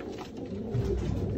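Pigeons from a loft of about fifty-five breeding birds coo in soft, low, overlapping throbs, a steady murmur close by with no voices.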